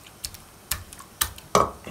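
Several sharp, irregular knocks of a pestle pounding lamb tail fat inside a metal pot, close up, with brief quiet gaps between blows.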